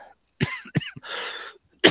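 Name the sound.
coughing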